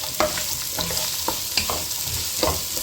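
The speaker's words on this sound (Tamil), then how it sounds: "நாங்கள் தாளிச்ச அப்புறம் வெங்காயத்தை போட்டுறேன்." Sliced onions sizzle in hot oil with green chillies, curry leaves and tempering spices, while a spoon scrapes and stirs the pan in repeated close, clattering strokes over a continuous fry.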